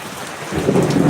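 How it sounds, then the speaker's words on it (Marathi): Rain pours down steadily in a dense, hissing wash, growing a bit louder with a low rumble underneath. "पाऊस पडत आहे"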